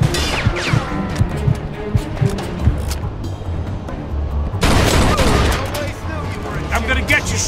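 Gunfire in the video game Mafia II comes as a string of loud, punchy shots with a heavy crashing burst midway, over a dense game soundscape with voices talking.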